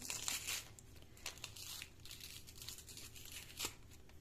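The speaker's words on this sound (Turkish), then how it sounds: "Şöyle elimde karbonat var arkadaşlar. Karbonatımı açıyorum." A packet of baking soda is torn and opened by hand before being poured over metal spoons, giving a close crinkling, tearing rustle in several short bursts with no talking.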